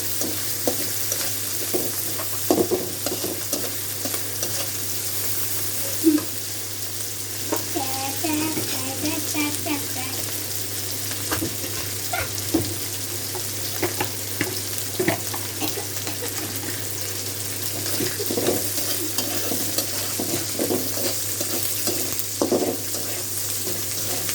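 Prawns frying in a pan for a lau curry, giving a steady sizzle under continuous hiss and hum, with occasional stirring scrapes and clatters close by.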